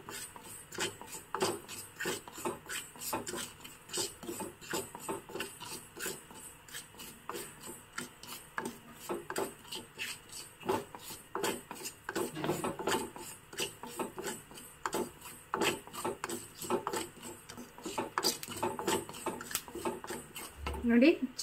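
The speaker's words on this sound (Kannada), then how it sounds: "ಚೆನ್ನಾಗಿ ಕೆಂಪಗೆ ಹುರ್ಕೋಬೇಕು ಮೆಂತ್ಯ ಕಾಳುಗಳನ್ನು" Fenugreek seeds dry-roasting in a pan while being stirred make a continuous scraping, rattling clatter of seeds and utensil against metal, close and steady throughout.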